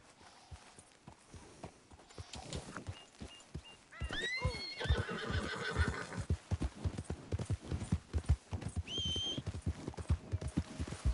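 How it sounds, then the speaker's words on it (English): A horse in the video game Red Dead Redemption 2 whinnies loudly twice over steady clip-clopping hooves, the neighs rising high and shrill against a rhythmic walking beat. "Damn that horse."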